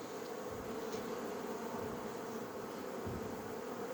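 Caucasian hybrid honeybees hum continuously inside an Apimaye thermo hive. The buzzing is faint and even with no voices.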